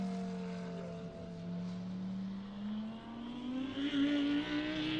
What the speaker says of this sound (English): The Lamborghini is now approaching the second twistier section of the circuit, marked by turns 10, 11 and 12.